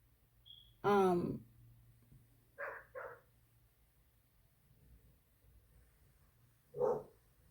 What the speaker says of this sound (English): So when one dog starts barking